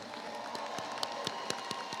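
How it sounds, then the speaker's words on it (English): Graduation audience applauding the top scholars of a high school class of 2021, a faint, distant wash of clapping with a few sharper claps standing out near the end, heard alone without talk. "let's give them all one more round of applause"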